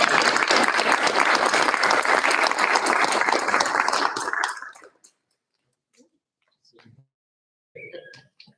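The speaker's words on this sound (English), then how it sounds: "let's give Reagan a round of applause" Applause for a student-of-the-month award at a school board meeting, a dense burst of clapping that fills the first four seconds and then fades out into near silence with a few faint stray sounds.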